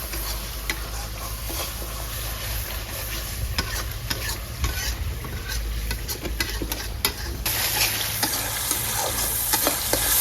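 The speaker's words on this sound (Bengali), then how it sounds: "আর 2 মিনিট আমি খোলা রাখতে একটু নাড়াই" Spices being stirred as they fry in a pan with oil for a papaya and soybean vegetable curry, a close, steady sizzle with irregular scraping and tapping strokes of the spoon throughout, no talking.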